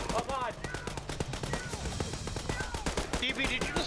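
Rapid bursts of heavy automatic gunfire from a BTR armored vehicle in a video game, with sharp, dense repeated shots throughout and players' voices talking over them.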